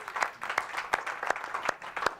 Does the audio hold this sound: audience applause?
yes